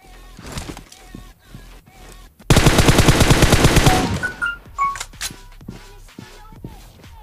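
A rapid automatic gunfire spray in PUBG Mobile bursts out loud and close for about a second and a half, set between quieter in-game footsteps, clicks and scattered impacts.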